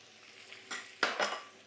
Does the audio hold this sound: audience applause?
no